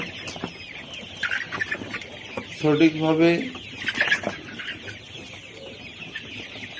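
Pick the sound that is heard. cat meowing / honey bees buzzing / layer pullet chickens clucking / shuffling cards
layer pullet chickens clucking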